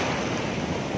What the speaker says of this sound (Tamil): அந்த கடலுடைய சத்தம், இந்த அலையுடைய சத்தம் வந்து அதிகமாகுது